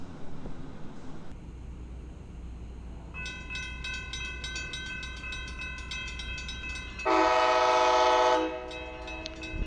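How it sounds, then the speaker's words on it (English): A Brightline passenger test train rolls past close by with steady rumbling, a sustained horn blast partway through, and a louder, brighter horn burst near the end. "this is one of the test trains that didn't cross the bridge"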